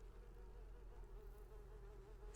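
Flies buzzing inside a dirty room in the video game Disney Dreamlight Valley, a faint, continuous drone that wavers slightly in pitch and carries on steadily with no talk.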